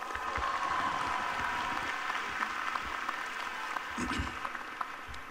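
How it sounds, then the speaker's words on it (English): An audience at a 2019 engineering commencement keeps up a steady round of applause at moderate distance, the clapping even and continuous with a slight swell near the end. "Give her another round of applause."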